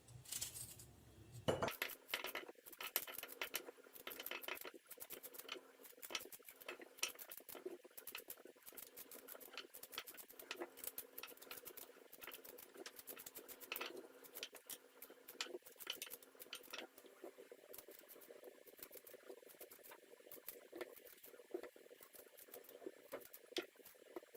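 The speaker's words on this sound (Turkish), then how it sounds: "Şimdi de bunları küp küp doğrayacağım." A knife taps rapidly and steadily against a cutting board, dicing peeled quince into small cubes, quiet and close.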